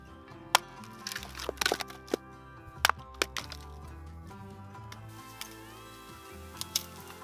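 Light hatchet chopping wood at a remote backcountry lake campsite, with several sharp, close cracks and chops landing at irregular intervals over a faint background.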